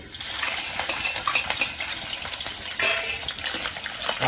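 Garlic and sliced green chillies sauté in sesame oil, a continuous sizzle with scraping and clinking as a utensil stirs the pan, close and alone without talk.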